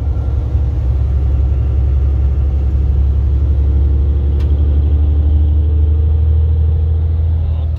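A semi-truck drives along and turns around at an intersection with a deep, steady engine rumble. The road drone stays loud and continuous throughout, with a faint higher whine drifting through it.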